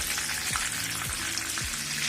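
Chicken cutlets fry in a pan of oil with a continuous bright sizzle and crackle, broken by a few soft low bumps as the pieces are handled. No one speaks.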